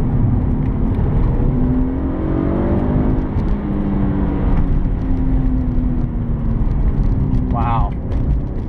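A 1999 BMW E36 M3 accelerates hard out of turns on a road test, its engine droning loudly and steadily with a rising, rasping tone while someone talks over it.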